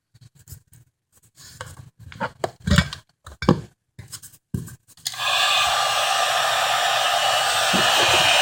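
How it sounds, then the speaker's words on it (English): Heat gun blowing on hammered-texture EVA foam for cosplay, a steady loud rushing hiss that starts about halfway through, after a run of close tapping and scraping handling noises. "we're going to hit it with a heat gun, so it'll get rid of a lot of those too"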